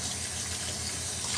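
A kitchen faucet gives an oval-shaped spray, a loud, even broadband hiss of water with no pauses or change, close up.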